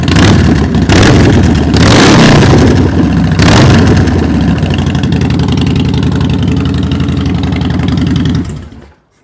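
A motorcycle engine bursts into life and revs hard several times, then settles into a loud, rough idle up close before cutting off abruptly.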